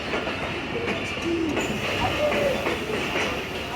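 The Karachi Express stands at Lahore railway station, with a steady rail rumble and hiss filling the platform and a faint squeal rising briefly over the continuous noise.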